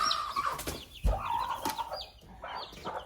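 A mother hen with chicks clucks repeatedly nearby, agitated murmuring calls with some higher squawks mixed in, with no voices.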